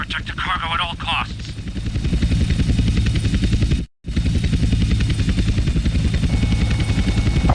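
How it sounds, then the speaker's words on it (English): Helicopters from the video game GTA San Andreas close in, a loud steady rotor thrum with rhythmic chopping that builds and holds, briefly cut off mid-clip, while someone talks at the start. "2 agency choppers coming in on an intercept."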